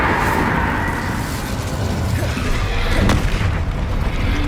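Incendio fire spell cast in a Harry Potter video game during a rapid duel, heard as a dense, continuous roaring whoosh with a deep rumbling boom and a brief burst near the end, loud and close throughout.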